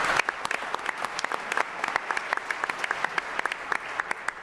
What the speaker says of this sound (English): So actually, I think that deserves a round of applause.